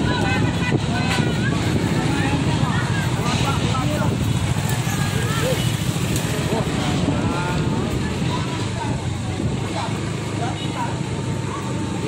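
A tornado's whirlwind in Jenggawah, Jember roars as a continuous, dense gust of wind that buffets the area steadily and loudly throughout.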